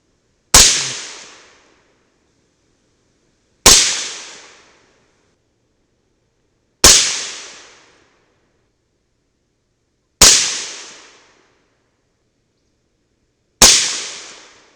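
Five loud, sharp gunshots from a CMMG 300 BLK rifle with an 8-inch barrel firing 110-grain Hornady V-MAX handloads, evenly spaced about three seconds apart, each with a short decaying tail and silence between.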